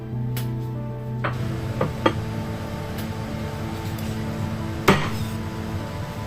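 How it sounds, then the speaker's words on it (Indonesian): Chicken being chopped into four pieces for a Hong Kong-style soup, a few sharp knife or cleaver knocks on a board spaced irregularly over a steady low hum, no talking. "sekarang akan saya potong ayamnya menjadi 4 bagian"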